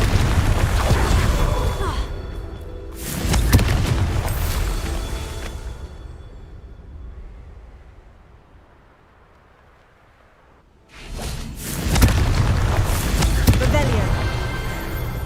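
A Confringo explosive spell in Hogwarts Legacy bursts in heavy booming blasts, a loud cluster early on, then a fading rumble and near silence before another strong burst of explosions.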